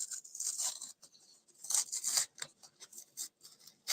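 Layers of paper-like craft material are peeled apart by short fingernails, giving close, crisp bursts of rustling and tearing separated by brief quiet gaps.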